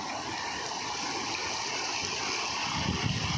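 A river flowing between dense forest near Dehradun, a steady broadband rush of water, moderately loud and continuous, with slight surges toward the end.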